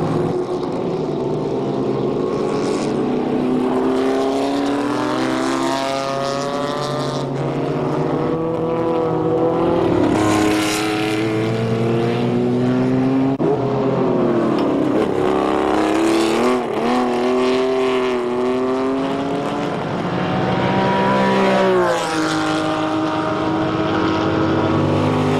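Race cars in the closing minutes of a 1994 twenty-four-hour endurance race lapping a circuit, engines whining loudly and continuously, pitch sweeping up and down as cars pass one after another.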